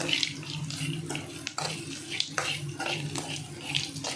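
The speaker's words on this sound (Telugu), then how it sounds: "మన వేగిన ఉల్లిపాయ ముక్కల్లోకి వడియాలు కూడా వేసుకొని ఫ్రై చేసుకోవాలండి" Onion pieces and sun-dried vadiyalu fry in a pan, giving a steady close hiss broken by repeated sharper crackles throughout, with no talking.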